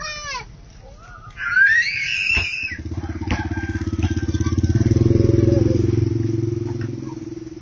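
A motorcycle passes nearby, its engine building from quiet to a loud, steady drone that lingers, with brief voices and a clatter just before it arrives.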